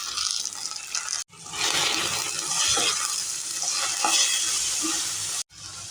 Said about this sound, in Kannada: 2 ಸಣ್ಣದಾಗಿ ಟೊಮೆಟೊನ ಕಟ್ ಮಾಡಿ ಇಟ್ಕೊಂಡಿದ್ದೆ ಹಾಕ್ತಾಯಿದ್ದೀನಿ.